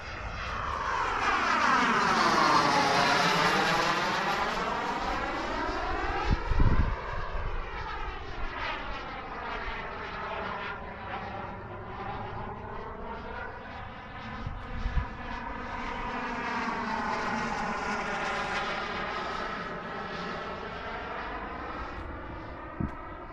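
A foam RC L-39 model jet making a slow, low parade pass, its engine whine rising and falling in pitch as it approaches and recedes, steady and moderately loud with no talk.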